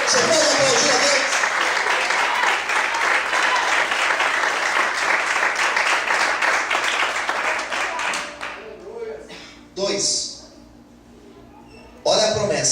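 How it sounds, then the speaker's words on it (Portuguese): Congregation in a church service clapping loudly and continuously for several seconds, then thinning out, with a brief final burst near the end and a voice speaking underneath. "Você pode aplaudir a Deus?"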